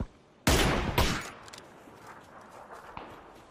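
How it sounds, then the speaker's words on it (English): Gunfire in PUBG, two loud close shots in quick succession followed by fainter scattered distant cracks as the sound dies away. "They're shooting."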